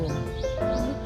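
Faint bird chirps and cooing over a steady low outdoor hum, brief and distant, with a couple of thin tonal calls.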